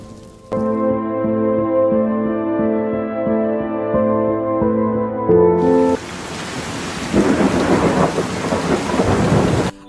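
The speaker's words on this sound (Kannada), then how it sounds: "ಒಳ್ಳೆ ರೀತಿಯಲ್ಲಿ ಮಳೆ ಬರ್ತಾ ಉಂಟು ಪೆರ್ಲದಲ್ಲಿ" Heavy rain pours down in Perla, a town on the Karnataka–Kerala border, as a loud, dense roar with low rumbling. It follows a sustained electronic-sounding tone that fills the first several seconds.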